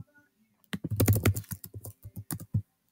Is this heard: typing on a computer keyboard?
yes